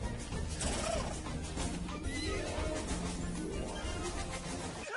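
Horses neigh in repeated rising and falling whinnies over a dense, loud background of movement and noise.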